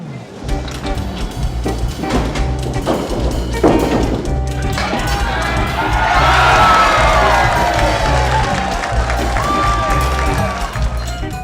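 A crowd at a candlepin bowling alley cheers after a triple strike jackpot win, loud and sustained, swelling in the middle amid thuds and clatter.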